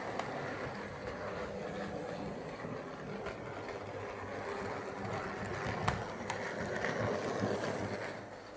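A Hornby R316 0-6-0 Class J83 LNER model tank engine runs along its track, a steady, soft mechanical whirr and rumble continuing evenly throughout with no voices.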